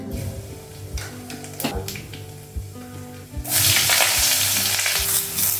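Nigella seeds hit a hot wok: light crackles and stirring give way to a sudden loud, sustained sizzle, with a soft rhythmic musical beat underneath.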